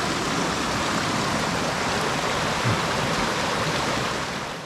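A jungle river in Colombia, a loud steady rushing of flowing water close by, continuous and even throughout with no voices.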